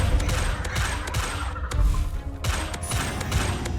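Descendo spell impact in Hogwarts Legacy, a rapid cluster of crashing thuds and crackling bursts layered over a busy, noisy combat scene.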